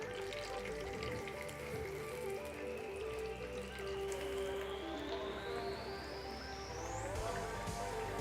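Two medium-sized chopped onions fry in hot ghee until golden brown, giving a steady, soft sizzle and crackle throughout, with no voices.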